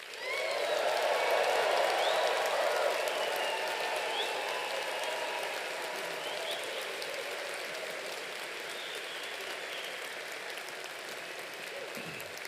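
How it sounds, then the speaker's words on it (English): A graduation convocation audience applauds and cheers for the graduating class, a loud wash of clapping and voices that peaks early and then settles into a long, steady, slowly fading roar. "raise your voices, raise your cheers, raise your applause in celebration of the class of"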